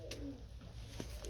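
Pet birds, kept poultry, coo softly at close range, a few low throaty calls rising and falling over a faint steady background hum.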